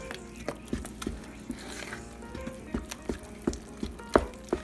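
Swedish bread dough is mixed by hand in a pan, with the sides scraped down. Soft, irregular thumps and scrapes recur every half second or so at close range, fairly quiet.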